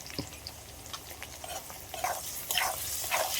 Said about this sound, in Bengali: সবগুলো একসাথে একটু হালকা করে নেড়ে চেড়ে নেব। পেঁয়াজ আর টমেটোটা একটু ভেজে নিয়েছি।